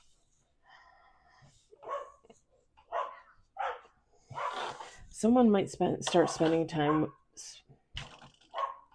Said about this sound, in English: Sorry, the dog barking.